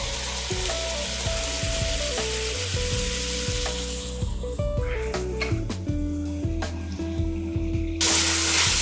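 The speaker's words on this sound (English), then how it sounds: "there's not much that smells better than fresh garlic sauteing" Fresh garlic sautéing in a pan for Bolognese sauce, a steady close sizzle running throughout with tonal hums and occasional stirring clicks and scrapes.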